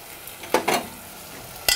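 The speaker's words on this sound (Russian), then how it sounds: "Даем вину полностью выпариться." Dry white wine sizzles in a pan of mushrooms while being stirred, with a steady close frying hiss and a few sharp scraping stir strokes, no voices.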